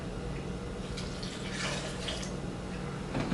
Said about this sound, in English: I'm going to pour me some vinegar in there.